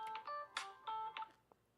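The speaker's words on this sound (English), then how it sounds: "I'm getting a phone call." A phone rings faintly with an incoming call, a short electronic ringtone in quick tonal bursts, quiet and alone.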